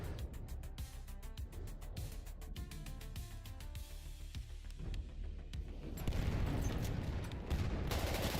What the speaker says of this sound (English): I know I'm gonna die because I'm being shot by multiple people